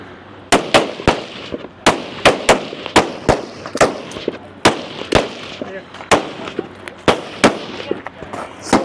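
Sharp gunshots ring out at a tactical games competition in Utah, a loud run of single reports, some close together and others spaced apart, with faint voices between them.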